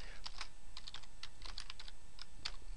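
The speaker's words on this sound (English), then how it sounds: "So I'm going to type over here." Fingers typing on a computer keyboard in short, irregular bursts of light clicking keystrokes, close and clear over a quiet room, with no voices.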